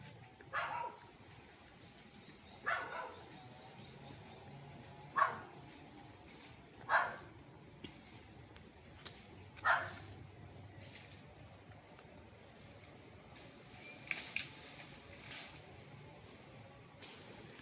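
Dogs barking on a farm lot outdoors, with about eight separate sharp barks and yips spaced a few seconds apart, moderately distant, over quiet rural ambience with faint birds.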